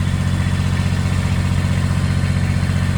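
A tractor engine runs at a steady, loud idle close by, its low throbbing drone thumping evenly for the whole stretch while moving a manufactured home during a foundation job.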